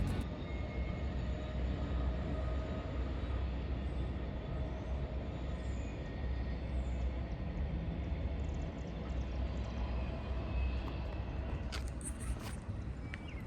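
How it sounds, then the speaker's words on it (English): A Union Pacific SD70M locomotive hauls a new Brightline commuter set along the Henderson sub past a store in Springfield, a steady broad rumble of rolling stock and engine running throughout, with a few sharper high clanks near the end. "a UP SD70M pulling a new Brightline commuter set past my store in Springfield"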